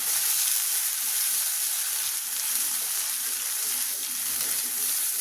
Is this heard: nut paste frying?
yes